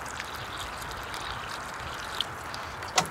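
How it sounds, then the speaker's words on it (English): Rainwater poured from a can into a planting hole in dry garden soil makes a soft, steady trickle and splash, faint and outdoors, ending in a brief louder splash. "now I'm going to fill that hole with water, because the ground is quite dry"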